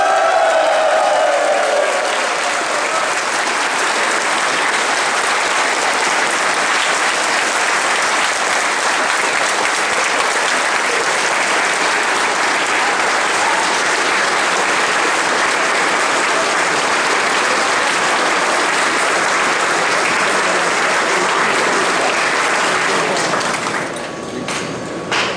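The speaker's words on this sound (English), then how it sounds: "please give a big cheer and a big hand for all of the convention staff" A large convention audience at a closing ceremony gives sustained loud applause with some cheering for the staff, a dense wall of clapping lasting over twenty seconds before tapering off at the end.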